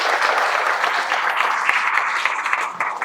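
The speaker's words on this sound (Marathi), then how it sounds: "सगळ्यांनी टाळ्या वाजवल्या टाळ्यांचा गडगडाट आवाज" An audience applauds outdoors with dense, steady clapping that fills the whole short stretch at moderate loudness.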